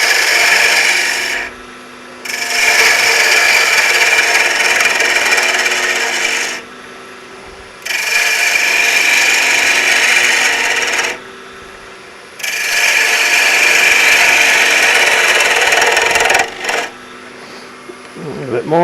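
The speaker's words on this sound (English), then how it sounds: "I'm going to put a bit of shape on there against the spindle gouge" Spindle gouge shaping wood between centres on a lathe during a live woodturning demonstration, a loud raspy cutting hiss in three long passes separated by short pauses, up close with no talking.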